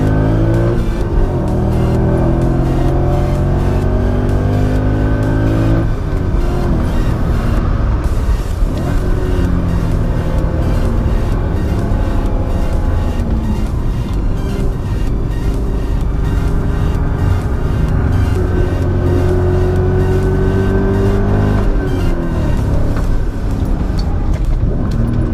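Supercharged BMW M5 driven hard, its engine note climbing through repeated accelerations and gear changes, loud and close from inside the car with a continuous mechanical roar.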